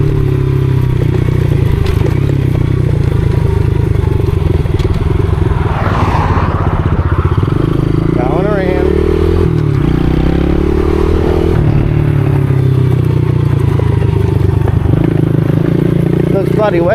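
A 110cc pit bike rides over wet, slick ground on a flat track, its small engine droning and shifting pitch steadily with rising and falling revs, close and loud throughout, with wind buffeting and scraping clatter.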